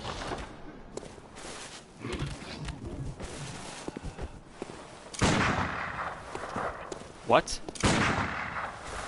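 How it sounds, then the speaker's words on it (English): Rifle gunfire in the video game Bloodborne, a few sharp shots amid dense game sounds, with a player briefly speaking over it. "Dude can shoot me with a rifle."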